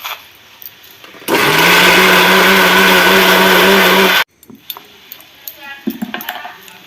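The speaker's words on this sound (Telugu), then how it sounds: "ఆనియన్స్ అలాగే వెల్లుల్లిపాయలు కూడా వేసుకొని మెత్తగా మిక్సీ పెట్టుకున్నాం" A mixer grinder whirs loudly for about three seconds, grinding onions and garlic to a smooth paste, a steady high-pitched grinding that starts and stops abruptly, followed by light clattering.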